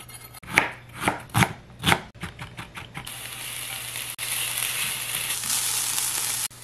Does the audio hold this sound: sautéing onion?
yes